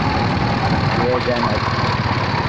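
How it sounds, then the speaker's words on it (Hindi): Motorbike engine running while riding with several passengers aboard, a steady mid-pitched drone close by with a voice speaking briefly over it. "तो अभी जा रहे हैं हम मोटर बाइक पे।"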